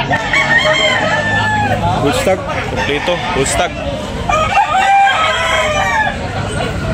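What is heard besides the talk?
roosters crowing at a gamecock sale, Cebu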